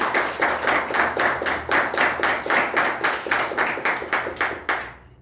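A church congregation claps in a steady, even rhythm, about three claps per second, loud and close, with no voices over it, ending abruptly.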